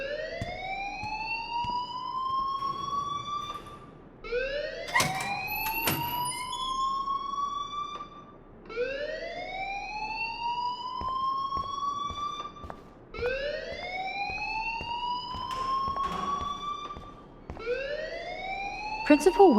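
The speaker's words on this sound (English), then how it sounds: "please turn off that alarm since that's your job" A school alarm rings in the video game Life is Strange: a repeating rising electronic whoop, about five sweeps, loud and continuous, with brief clanks and a voice under it.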